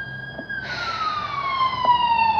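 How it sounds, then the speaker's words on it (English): A police-style emergency siren wails steadily outside, its pitch sliding and sweeping as it passes, loud and continuous across the whole moment. "sorry. Siren."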